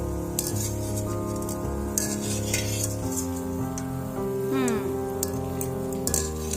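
Khoi bora, fritters made of puffed rice, crackle and hiss in frying oil beneath prominent background music, with occasional utensil clinks and scraping stirs breaking through.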